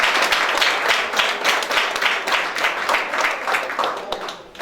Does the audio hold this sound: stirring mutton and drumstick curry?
no